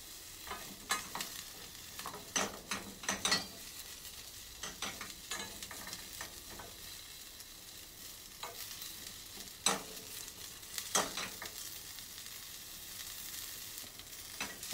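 Cauliflower being stir-fried in oil makes quiet, intermittent scraping and clattering as it is tossed around the pan, with soft bursts of sizzle between the strokes and no voices.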